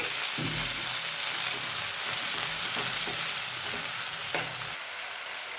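Garlic, ginger and tomatoes fry in a pan for tomato soup, a steady close broadband sizzle running throughout with a few soft clicks of stirring, then easing slightly near the end; no voices.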